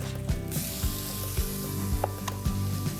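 Onion and garlic sauté in a pan for an Italian Sunday sauce, a steady close sizzle broken by several rhythmic stirring scrapes and knocks of a utensil against the pan.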